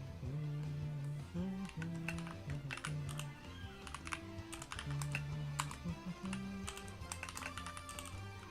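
Someone types on a computer keyboard, a steady stream of close, crisp key clicks running throughout over a low, melodic background tune.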